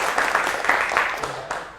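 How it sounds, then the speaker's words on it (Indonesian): Applause from a classroom group, a short burst of clapping that swells and fades over a couple of seconds. "tepuk tangan buat kita semua"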